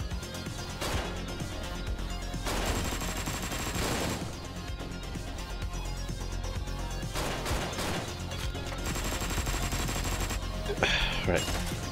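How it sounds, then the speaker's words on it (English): Gunfire in the video game Hotline Miami 2, several loud bursts of rapid shots separated by short pauses, with game sounds around them. "did our own guy just shoot us?"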